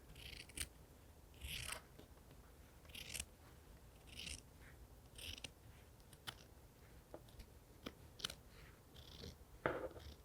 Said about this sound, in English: now I'm going to cut it